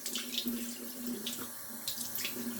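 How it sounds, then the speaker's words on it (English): Water running from a bathroom sink tap, a steady, soft splashing hiss with small shifts as hands move through the stream, close and fairly quiet, with no talking. "I didn't realize how well the camera can kind of pick up the sound of the sink like that"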